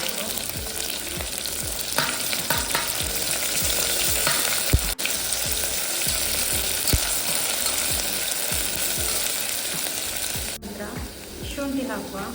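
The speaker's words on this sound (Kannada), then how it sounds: "ಸ್ವಲ್ಪ ಫ್ರೈ ಮಾಡಬೇಕು." Vegetables and whole spices for veg pulao frying in a pan, a steady close sizzle with repeated scraping stir strokes throughout, no talking.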